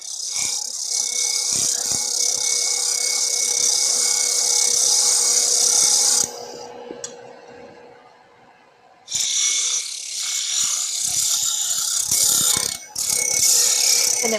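A wood turning tool is sharpened on a bench grinder fitted with a Wolverine jig, giving a loud, steady grinding hiss in long strokes that break off briefly in the middle and then resume, close by.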